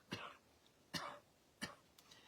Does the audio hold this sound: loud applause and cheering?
no